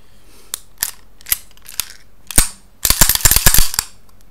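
Sharp metallic clicks and clacks as a Smith and Wesson all-steel 1911 pistol is unloaded, a few spaced snaps followed by a quick dense flurry of slide and magazine handling noises, close and without speech.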